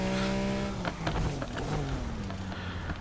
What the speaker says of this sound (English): that is the Lamborghini Diablo from my friend